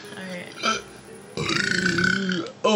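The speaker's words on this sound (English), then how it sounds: "You like that burp?" A loud, drawn-out cartoon burp from the video game SpongeBob SquarePants: Plankton's Robotic Revenge, rumbling for about a second amid game sounds and brief bits of voice.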